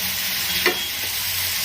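Ivy gourd chutney mixture with salt is stirred and fried in a pan, giving a soft steady sizzle with one brief scrape of the spoon partway through and a faint knock after it. No voices.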